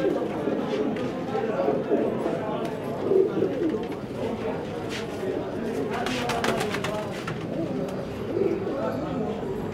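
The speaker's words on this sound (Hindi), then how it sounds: "गोरे बबरे नॉर्मल साइज़ के कबूतर हैं सब" Pigeons coo and murmur together in a busy flock at a pigeon market in Peshawar, with people talking over them and some flapping and scuffling.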